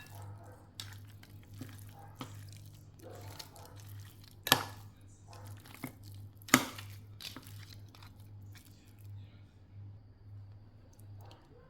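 Lamb offcuts mixed by hand with salt and spices for a curry marinade, soft wet squishing and slapping with a couple of sharper knocks against the bowl, a steady low hum beneath and a voice talking at moments.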